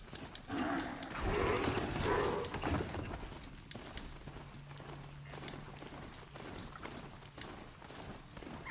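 A horse mount gallops in Horizon Zero Dawn. The hoofbeats are loudest and nearest in the first few seconds, then ease into a softer, steady clip-clop under low game ambience.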